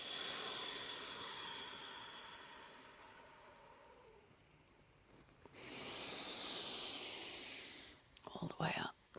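Long, deep exhale during a tantric shamanic yoga session, heard as a soft breathy hiss that swells and fades over several seconds, followed by a few brief breathy sounds, with faint quiet voice earlier.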